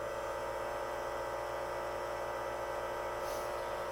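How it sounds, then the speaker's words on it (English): A JOERID food saver vacuum sealer on its dry setting pulls air from a bag of frozen meat and vegetables, giving a steady, loud motor hum that holds unbroken throughout. "let's do the dry setting and see if it does a good job sucking all that air out of there"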